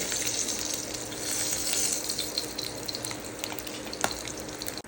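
Eggs fry in an oiled pan for a dhaba-style egg masala, a dense, steady crackling sizzle that holds close and even throughout, with a faint clink near the end and no talking.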